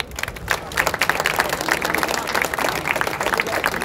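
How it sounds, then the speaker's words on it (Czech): Audience applause at the opening of a stage show in Přerov, a close, busy patter of many hands clapping steadily throughout the short stretch. "to chce taky potlesk."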